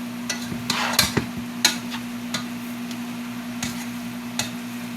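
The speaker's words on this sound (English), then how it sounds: "I'm just going to go ahead and stir everything together." Tahini bowl ingredients stirred together in a pot, a steady run of light clinks and scrapes from a utensil over a constant low electrical hum, with no voices.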